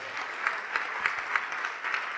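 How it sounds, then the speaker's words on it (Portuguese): A church congregation claps steadily through a Bible study gathering, a dense, continuous wash of hands with small rhythmic swells, fairly close and without voices over it. "vamos aplaudir mais"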